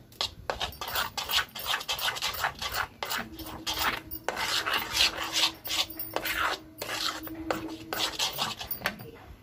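A spoon stirs turmeric, ground cumin and coriander into a mixture in a pan, making close, repeated scraping and rasping strokes in an uneven rhythm, with a faint hum underneath partway through.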